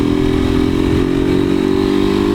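A motorcycle with a 4mm cylinder in poor condition runs close up, its engine holding a steady, rough, buzzing note with a clattery edge throughout.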